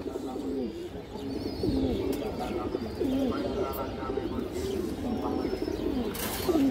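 Pigeons, including a milky khaki Palla-line hen, coo repeatedly nearby in soft rolling phrases, several birds overlapping against a faint background murmur.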